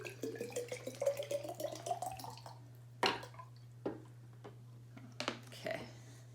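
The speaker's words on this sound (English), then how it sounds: "Pour this water into here." Water poured from one bottle into a bigger bottle for a jellyfish-in-a-bottle experiment, with gurgling, rising trickles followed by a few separate splashes and knocks over a faint steady hum.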